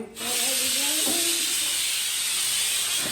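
A pressure cooker venting steam in a home kitchen, a sudden loud, continuous hiss that starts abruptly and holds steady, with brief voice sounds near the start.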